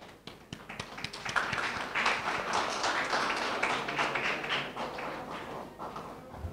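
Audience applause at a student debate during a Nobel festival, a dense burst of many hands clapping that swells and holds for several seconds and then thins out, with a few scattered claps at the end.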